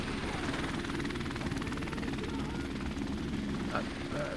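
Helicopter in the video game Call of Duty: Remastered, a steady close rotor thrum with continuous engine drone holding throughout without a break.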